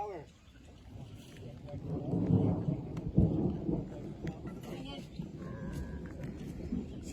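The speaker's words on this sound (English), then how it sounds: "There was just a lightning strike that we actually saw in the clouds there." Low rolling thunder rumbles under a softball game broadcast shortly after a lightning strike seen in the clouds, with rain noise and a commentator talking over it.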